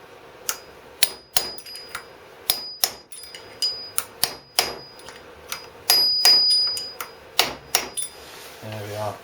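Metal taps from hammering a fork oil seal bushing into place on a Yamaha YP250 Majesty scooter, a dozen or so sharp ringing strikes in an uneven rhythm, close and fairly loud, some with a tinny metallic ring.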